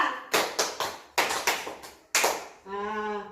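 A class claps in a counted pattern, sharp group claps landing in clusters of three, then three more, then a single clap, followed by a sustained sung or called-out voice.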